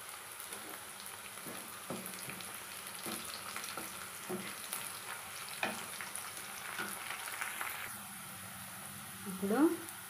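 Sliced onions and mint frying in a pan make a soft, steady sizzle. Irregular stirring scrapes and taps run through it, with a brief louder clatter near the end.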